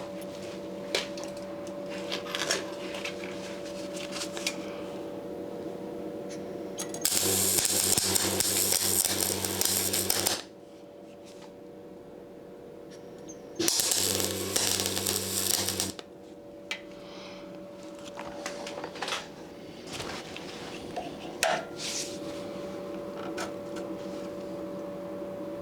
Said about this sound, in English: So we're going to attempt just to tack it in place now.